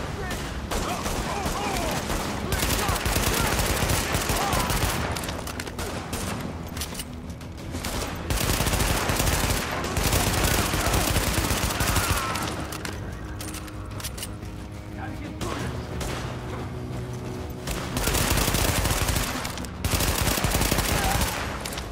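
Rapid bursts of burst-fire gunfire in The Division video game, repeated volleys of shots in clusters with short pauses between them, loud and dense, with game voices and chatter mixed underneath.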